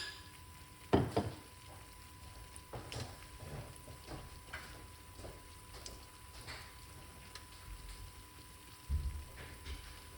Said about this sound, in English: So it's frying little by little